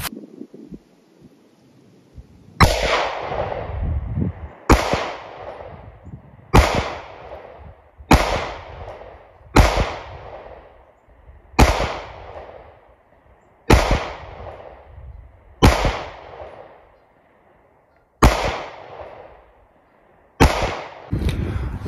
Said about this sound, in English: that is shooting the H&K VP9 SK back-to-back with the Shadow System CR920